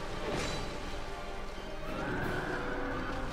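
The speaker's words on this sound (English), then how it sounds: "And now the main boss is this horse." A horse boss in the Dark Souls 2 video game lets out a loud whinny, with hoof clops and game effects around it and no one speaking.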